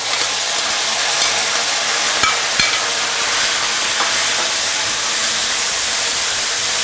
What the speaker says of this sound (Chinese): 快速去翻炒它，这是最大的火，现在全是最大的火。